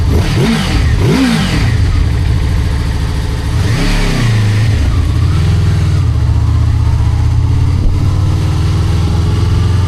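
A Honda Crossrunner 800X motorcycle engine revs loudly and up close, with several sharp throttle blips rising and falling over a steady idle and no talking.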